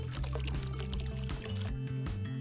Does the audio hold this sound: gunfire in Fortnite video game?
no